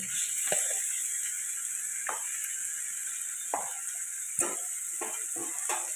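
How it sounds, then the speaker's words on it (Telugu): Cleaned raw chicken tumbles into a pan of cooking tomatoes, giving a steady close sizzle with several sharp stirring knocks and scrapes spread through it, no voices. "ఇప్పుడు క్లీన్ చేసి పెట్టుకున్న చికెన్ అయితే అందులో వేసేసుకుందాం"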